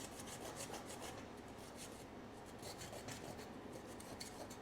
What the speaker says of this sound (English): now I'm using this little piece of foil. But it's working. It's getting it off.